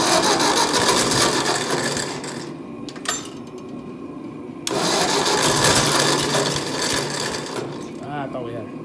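An old engine on a 600, warm from a heated shop, cranks over with a weak starter, giving a sluggish rhythmic churning in two long bursts broken by a pause, close and loud, with someone talking around it.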